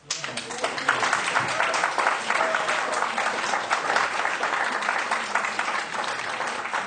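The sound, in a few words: audience applause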